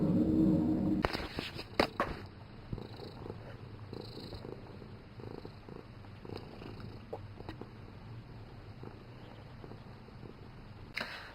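A big domestic cat purrs close and soft in a low, steady rumble, with a few sharp clicks and faint rustles scattered over it.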